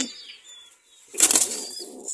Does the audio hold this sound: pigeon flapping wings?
yes